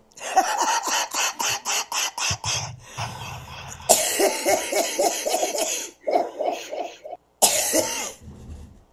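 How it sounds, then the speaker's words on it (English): A run of harsh, repeated coughs and throat clearing, close and loud, in several bursts with short pauses between them. "I guess nobody wants to hear somebody coughing along"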